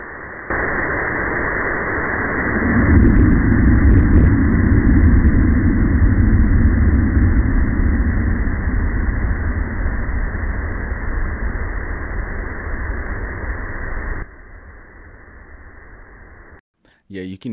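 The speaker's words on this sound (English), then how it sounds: "Here you can actually hear that initial implosion and then that low, slow, deep droning sound, and that sound just carrying off into the ocean." Underwater recording of the OceanGate Titan submersible implosion: a loud, dense burst followed by a long, low, deep droning rumble that carries on steadily before fading, with no voices.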